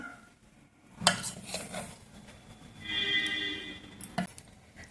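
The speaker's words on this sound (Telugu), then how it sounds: "ఎంత వచ్చిందో బౌల్ తీస్తాము" A bowl is taken out and handled in a home kitchen where tomato powder is being made, with a few sharp clinks and knocks of dishware separated by quiet stretches and a brief scraping rattle in the middle.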